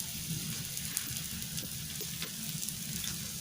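A cheese bread omelet cooking in a pan, giving a steady, fairly quiet sizzle with faint crackles and pops and no strokes of stirring.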